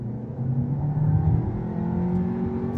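A 2018 VW Tiguan 2.0 SE 4Motion accelerating, heard from inside as a steady, smooth engine drone with rising pitch under road hum, moderately loud and with no talking.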